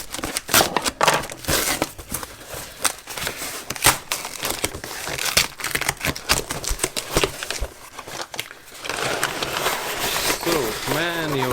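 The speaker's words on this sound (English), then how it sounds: "Okay, so let me try to cut it open." Cutting open the packaging of an IKEA Skallran table lamp base: a busy run of crinkling, crackling plastic and cardboard with sharp snips and rustles, close by, with some talk mixed in.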